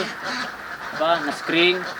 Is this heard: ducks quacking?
yes